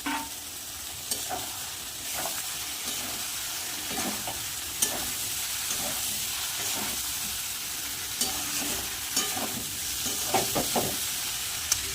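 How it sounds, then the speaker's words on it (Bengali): Fried cauliflower stirred into sizzling spice paste in a pan, a steady close frying hiss with irregular scraping stirs and small pops throughout, no voices. "এবার উপর থেকে ভেজে রাখা ফুলকপিগুলো দিয়ে একটু নাড়িয়ে জল দিয়ে দেবো"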